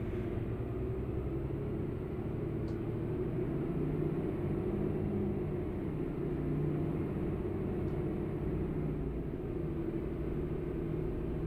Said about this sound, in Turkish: Otobüsün efsane yüksek devir sesine bakar mısınız?